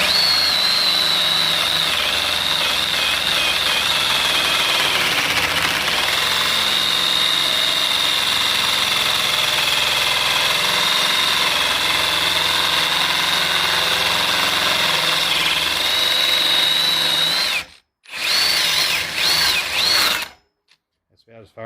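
A power saw cuts steel roll cage tubing during race car fabrication, droning loud and continuous with a high whine for most of the cut, then stopping abruptly, restarting briefly and cutting out again.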